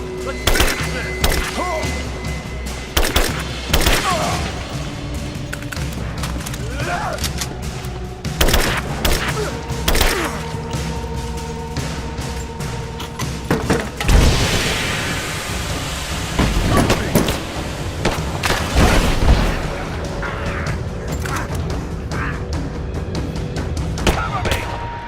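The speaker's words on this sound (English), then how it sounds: "Open fire! I'm under fire!" Dense gunfire in the Rise of the Tomb Raider video game, with rapid bursts, heavy thuds and explosions crowding together over a rumbling backdrop, while voices shout now and then.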